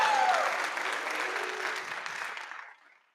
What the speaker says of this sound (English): y'all can cheer your alma mater.